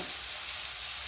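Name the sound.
spices with chili powder sizzling while being sautéed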